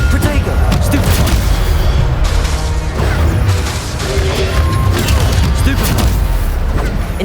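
Spell-casting combat in the Hogwarts Legacy video game: dense, loud bursts of magical blasts, booms and crashes pile up continuously, with barely a pause.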